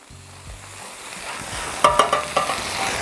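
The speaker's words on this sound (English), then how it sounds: "I'm gonna go ahead and dump on our veggies over here. So I'm gonna get a big pile of that butter" Shrimp, vegetables and a large pile of butter sizzling on a hot Blackstone flat-top griddle, a rising hiss punctuated by a quick run of sharp spatula scrapes; close and clear, no talking.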